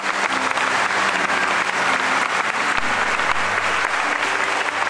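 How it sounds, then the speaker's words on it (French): Church congregation applauding loudly and steadily to acclaim the Lord, a dense sustained clapping from many hands filling the room without a break, with faint music underneath. "On acclame le Seigneur très fort."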